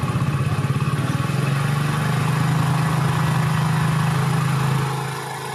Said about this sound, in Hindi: बाइक अभी स्टार्ट है, बाइक को आपको थोड़ा एक्सीलेटर दे करके 2 मिनट तक स्टार्ट करके रखना है।